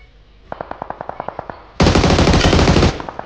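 Gunfire in PUBG Mobile: a quick run of about a dozen evenly spaced single shots, then a loud, dense burst of sustained automatic fire lasting about a second, all close and with no talking over it.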